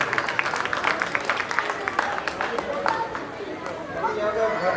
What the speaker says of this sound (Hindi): जोरदार तालियां हमारे गोपाल जी के लिए